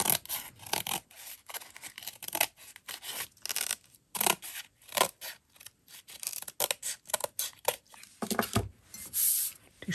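Scissors trim the paper cover edge of a handmade book, producing a run of quick, close snips and rasping cuts in an irregular rhythm, with no talk over them.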